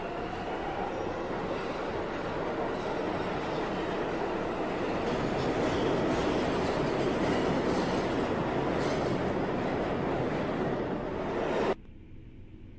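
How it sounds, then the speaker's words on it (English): A train rumbles past in an indie horror video game, a loud, steady rolling clatter of wheels on rails that swells slightly midway, then cuts off sharply, leaving faint quiet. "Loud train noises."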